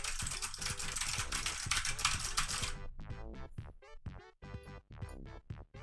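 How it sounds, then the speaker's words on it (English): A loud computer keyboard clacking under fast typing. A noisy wash at the start gives way to sharp, close keystrokes in rapid irregular bursts. "that's a really loud keyboard. Clickety-clack. Clacks."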